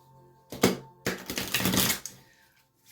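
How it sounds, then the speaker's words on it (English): Stiff playing cards riffle-shuffled in small piles, giving two bursts of dense crackling flutter, a short one then a longer one, fairly close and loud with no talk over them. "I'm going to break them into smaller piles just to get a good shuffle."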